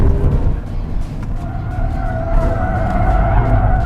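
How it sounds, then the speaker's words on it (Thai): Tyres on a BMW i5 electric sedan squeal loudly and steadily under hard acceleration, a sustained high-pitched screech over a broad road and motor roar, close and continuous. "เสียงยางลั่นตลอดแต่รถเอาอยู่อ่ะ"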